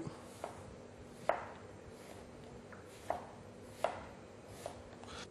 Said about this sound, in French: ces fines tranches d'environ 1 cm d'épaisseur, on va en faire des bâtonnets pour les réduire en cubes